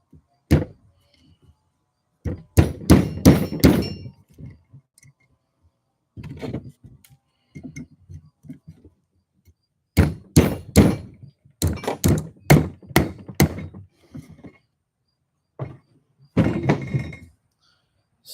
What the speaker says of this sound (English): pre-bending a nail and then hammering it down